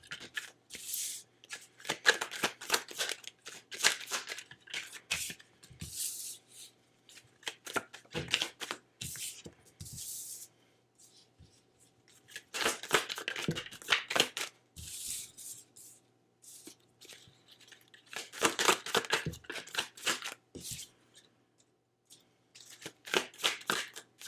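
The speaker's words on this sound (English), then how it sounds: "just give me a minute to draw some tarot cards here" Tarot cards being shuffled and drawn by hand: repeated bursts of crisp riffling and flicking cards, each lasting a few seconds, separated by quiet pauses, close and clear with no talking.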